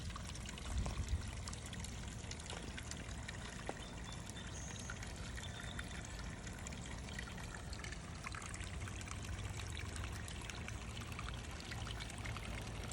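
Water trickles steadily from a backyard waterfall into a concrete-lined pond, a continuous broad splashing wash that stays even and moderately close for the whole stretch with no voices.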